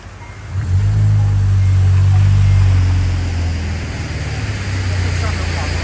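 Naturally aspirated Honda Civic engine revs up loud and close, holding a strong droning roar for a couple of seconds before easing back to a steady idle-like rumble.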